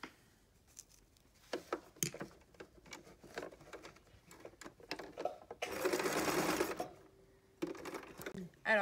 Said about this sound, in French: je me mets sous la machine et je fais ma croix.